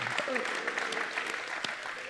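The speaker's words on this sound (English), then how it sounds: "Let's give a round of applause." An audience applauds in a room, with quiet, fairly dense clapping heard from a distance and a few voices mixed in.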